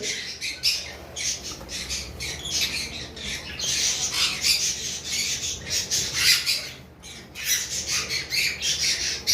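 Caged pet birds offered for sale squawk constantly, with dense, overlapping shrill calls and chirps at a steady, moderate loudness.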